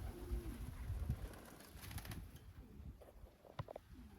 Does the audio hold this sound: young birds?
yes